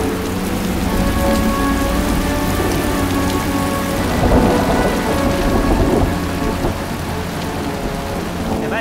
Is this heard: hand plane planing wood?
no